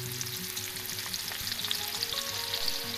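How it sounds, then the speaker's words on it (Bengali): Chopped onions hit hot oil already seasoned with dried red chillies and sugar for a spicy mutton curry, giving a steady, close, crackling sizzle with fine popping throughout. "এবার এই গরম তেলের মধ্যে আমরা তুলে দেবো কুচনো পেঁয়াজ।"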